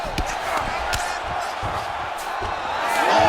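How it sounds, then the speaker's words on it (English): A virtual arena crowd in the UFC 5 video game swells into a roaring cheer after a grappling exchange, broad noisy crowd sound building louder toward the end, with a few sharp impacts earlier. "big pop from the crowd as they get back to their feet"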